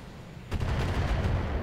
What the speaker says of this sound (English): there's a lot of LRMs, a lot of auto cannons that are really disturbing me